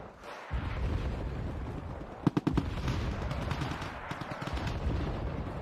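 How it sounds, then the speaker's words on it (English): Mortar fire in the war game Wargame: Red Dragon rumbles as a dense, continuous roar of distant explosions, with a brief cluster of sharper rapid cracks in the middle, fairly loud throughout. "the relentless mortars that have been firing at me the entire time"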